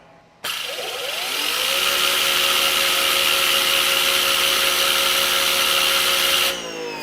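An EGO 56V battery-powered pressure washer, rated 3200 PSI and 1.2 GPM, kicks on in turbo mode with a sudden start, a brief rising whine, then a loud, steady high-pitched motor and pump drone before cutting off.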